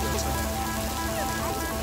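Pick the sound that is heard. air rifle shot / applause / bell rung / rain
rain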